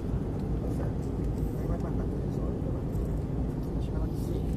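Steady low airplane cabin roar during a turbulent flight, a dense continuous rumble with airy hiss, constant in level throughout with no clear breaks.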